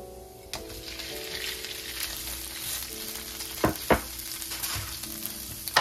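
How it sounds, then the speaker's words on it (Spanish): Garlic frying in a pan for shrimp-stuffed baked potatoes gives a continuous close sizzle, broken by a few sharp utensil clicks and scrapes near the end. "Le agregamos el ajo que nos faltaba. Y lo voy a dejar cocinar aquí por 2 minutos más."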